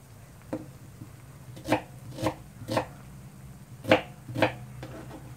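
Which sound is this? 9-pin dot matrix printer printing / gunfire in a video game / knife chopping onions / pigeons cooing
knife chopping onions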